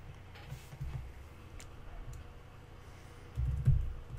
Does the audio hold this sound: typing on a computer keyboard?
yes